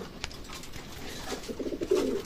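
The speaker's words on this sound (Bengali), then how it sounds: "রানিং পেয়ার কবুতর মাশাআল্লাহ" Running pair of teddy pigeons cooing in a loft, soft low throaty coos building toward the end over a steady background hum, close and moderately loud.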